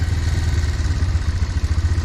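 A motorcycle engine idles close by in a steady, throbbing low rumble as the bike is brought to a stop outside a building in Qatar.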